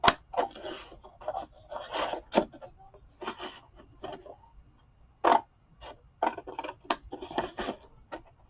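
Scissors cut paper for a 3D frame, making a series of close, dry snips and rustles in short irregular bursts, with quiet gaps between cuts.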